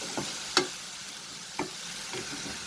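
Ingredients sautéing in a pan over a medium flame while paneer paratha filling is prepared, giving a quiet, steady sizzle with a few sharp spatula clinks. Close and fairly faint, with no voices.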